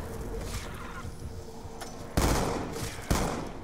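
Gunfire in the Black Ops 2 Zombies video game: a muffled rattle of shots gives way to two loud, sharp bursts of firing, each fading off over about a second.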